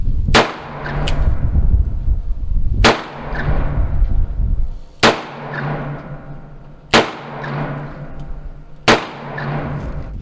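Five loud, sharp gunshots from a Taurus Tracker .44 Magnum revolver fired outdoors, spaced about two seconds apart, each a hard crack followed by a rumbling decay, with no talk.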